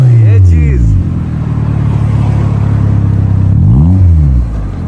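An imported left-hand-drive car's engine revs loudly up close, two rising-and-falling throttle blips framing a steady deep idle rumble.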